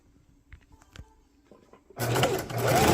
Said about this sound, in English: I'm going to sew the top of my handle right here